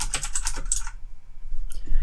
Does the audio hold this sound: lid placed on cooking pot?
no